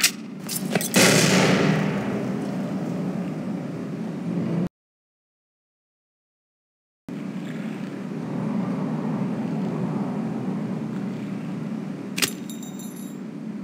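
A grenade thrown in Counter-Strike: Source bursts with a loud sharp blast and a rumbling decay, then a gap of silence and a long low roar, with a brief crack later.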